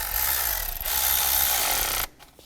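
Bolt tightened on a 2011-2015 Chevrolet Cruze turbocharger and exhaust manifold, a loud continuous whirring ratchet or power-tool buzz lasting about two seconds, briefly dipping once, then stopping abruptly.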